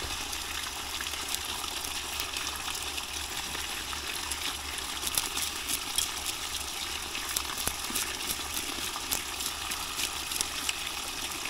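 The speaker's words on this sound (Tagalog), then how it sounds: "Walang tigil yung tubig, ang lakas." A strong, nonstop flow of water gushes in a constant loud rush, with faint splashes flickering through it and no pause.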